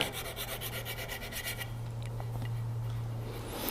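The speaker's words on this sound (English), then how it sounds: "Just a little fine diamond hone." Woodturning scraper rubbed on a fine diamond hone, a close, rapid, rhythmic rasping stroke for about a second and a half, then softer scraping over a steady low hum.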